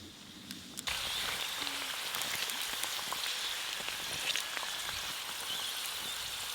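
Khasta pastries fry in hot oil, giving a steady, fairly quiet crackling sizzle with many tiny pops that begins abruptly and continues evenly to the end.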